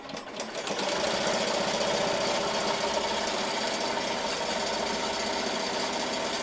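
An embroidery machine stitching a bunny design in brown thread, a steady rapid mechanical whir and needle chatter that starts up and runs loud and continuous.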